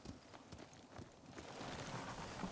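Horse hooves clip-clop steadily in the Ghost of Tsushima video game, a brisk repeating trot heard up close through the whole stretch, growing slightly louder toward the end.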